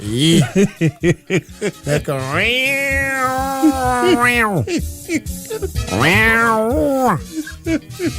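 A cat meows loudly and close by, with two long, drawn-out wailing meows and shorter calls between them, while people talk and chuckle around it.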